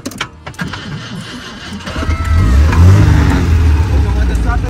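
A car engine starts and revs up, a low rumble building steadily and staying loud after a quieter opening with handling noises; voices talk over it.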